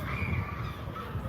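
A noisy flock of seagulls near the sea in Istanbul keeps up a steady chorus of overlapping harsh, cawing calls, moderately loud against a low rumble of background noise.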